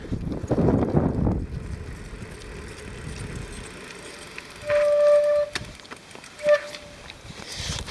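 Mountain bike cantilever brakes give a couple of short, thin squeals while riding, set against wind buffeting and rolling noise, with no clear talking.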